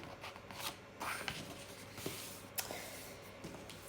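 Paper is folded and creased by hand after being written on, giving soft, close rustles and a few sharp crinkles spaced unevenly over a few seconds.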